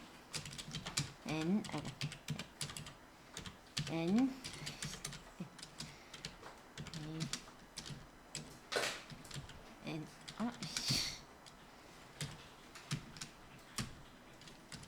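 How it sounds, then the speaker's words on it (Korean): Someone types on a computer keyboard while working in an Excel spreadsheet, producing scattered, close clicks and key taps in irregular bursts. A person speaks intermittently between the keystrokes. "이때 Alt 누르시면서 엔터 치는 거였어요"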